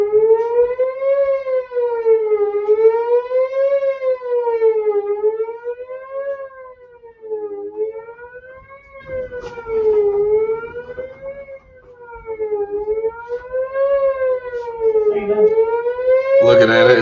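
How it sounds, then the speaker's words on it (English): A loud outdoor tornado warning siren wails steadily, rising and falling in long sweeps, with brief bursts of wind or handling noise near the end. "Yeah, there's our siren."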